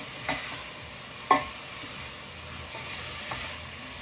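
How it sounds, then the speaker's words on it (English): Onions for rajma masala sizzle quietly in a pan while a utensil stirs them, with a few soft scrapes and one sharper knock over a low, steady hiss. "And then we're going to give that a stir."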